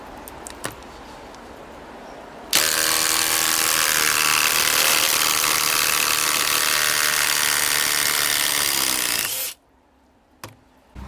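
A DeWalt impact driver runs one long, loud, continuous burst driving a screw in speed setting 4, close by, then stops abruptly with a couple of small clicks after.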